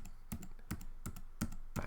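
Command Z keyboard shortcut keys are pressed repeatedly on a computer keyboard while working in Flash, giving five crisp, evenly spaced clicks up close in a quiet room.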